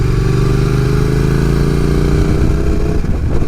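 A motorcycle engine drones loud and close while the bike is ridden along a winding road, pitch climbing gradually under steady throttle before briefly dipping near the end.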